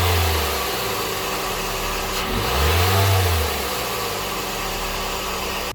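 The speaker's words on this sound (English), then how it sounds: "We're gonna let the car run for a couple more minutes" A first-generation Scion xB fitted with an Injen short ram cold air intake runs steadily, its engine hum swelling briefly as it revs once near the middle before settling back to a steady run. No voices are heard.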